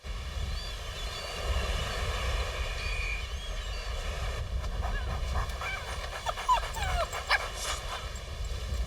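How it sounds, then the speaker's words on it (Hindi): A dog pants rhythmically and whimpers softly over a steady background hum, the quick breaths fairly faint and continuous. "इस कुत्ते को मेरे सामने से लेके जाओ।"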